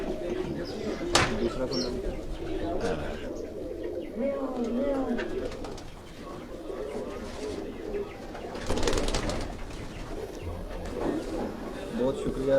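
Large, heavy-bodied pigeons in a fancier's loft in Quetta coo in low, repeated murmurs beneath someone talking almost continuously nearby, with occasional clatter and rustling.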